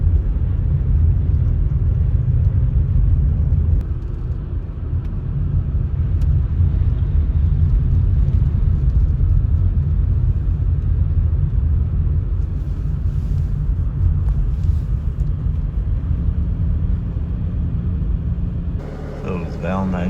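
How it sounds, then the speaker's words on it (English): A snow plow vehicle clears a driveway after a light Valentine's Day storm that left about four inches of snow, giving a steady, loud engine rumble that runs throughout. "I'm just going to give the driveway a little plow."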